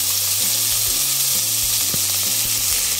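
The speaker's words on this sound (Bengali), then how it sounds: "তেলটা গরম হয়ে গেছে, এবার সবজিগুলো দিয়ে দিই।" Vegetables sizzle in hot oil in a pan, a loud, steady hiss that runs unbroken throughout with no talking.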